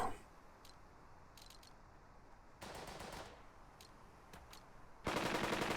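Machine-gun fire in the WW2 game Burden of Command: short distant ticks, then two loud sustained bursts of rapid automatic fire, the last one the closest and strongest.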